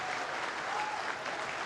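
A snooker crowd at the 2017 Shanghai Masters final between Ronnie O'Sullivan and Judd Trump bursts into loud, dense cheering and applause that holds steady throughout.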